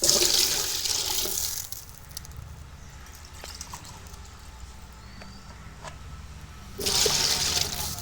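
Water or coconut milk poured into a pot of rice while cooking coconut milk rice, a rushing pour at the start and again near the end, with quieter kitchen background in between.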